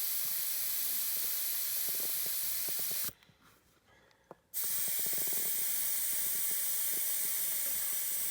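Air hissing steadily out of a tractor tire valve, a loud continuous broadband hiss that stops abruptly for about a second and a half with faint clicks, then resumes just as strongly.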